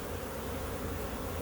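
Dense, steady buzzing of many honeybees at an open hive box during a colony inspection, a continuous loud drone with no breaks.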